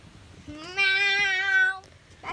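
A cat gives one drawn-out, clear meow up close in a home, loud and tonal, with faint room noise before and after.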